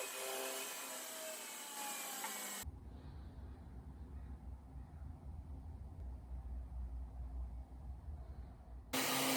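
A belt grinder fitted with a surface grinder attachment and a 10-inch contact wheel grinding a workpiece held on a magnetic chuck, a steady close whirring and grinding noise that shifts tone partway through, with no talking.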